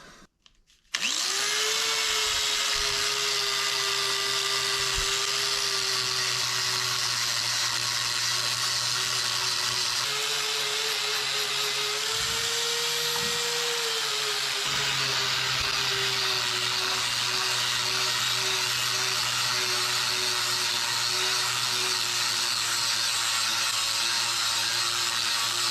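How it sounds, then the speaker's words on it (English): A spinning wire wheel scrubs grime off dirty drive shaft parts, starting after a brief pause and then holding a loud, steady high whine with slight dips in pitch as it presses into the metal, no talking. "I want to take my wire wheel, and I just want to clean all this up"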